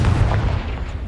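Confringo blasting curse explodes in the Hogwarts Legacy video game, a single loud, close, deep boom that rolls and rumbles for about a second.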